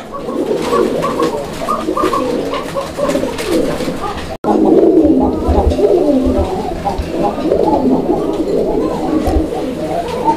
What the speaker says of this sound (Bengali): আপনারা দেখতে পাচ্ছেন কবুতরের ডাক।